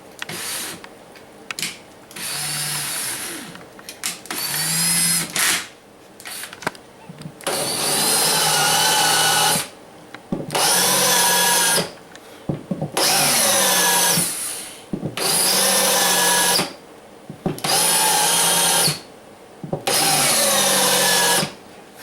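A power drill bores and countersinks bridge pin holes in an acoustic guitar bridge with a 30-degree countersink bit, giving about eight loud, close whirring bursts, some rising and falling in pitch, separated by short quiet pauses.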